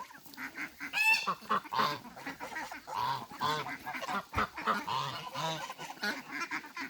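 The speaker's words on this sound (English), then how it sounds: "driving out the other gangs of geese, shifting around the ducks" Flock of geese honking loudly at feeding time, with ducks and a chicken nearby, many overlapping honks and quacks in a busy, continuous chorus.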